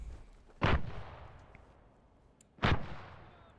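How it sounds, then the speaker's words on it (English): Two grenade explosions in Arma 3, each a heavy booming blast with a trailing rumble that dies away, about two seconds apart, heard at moderate distance in the game's battlefield. "Let's lob a few grenades,"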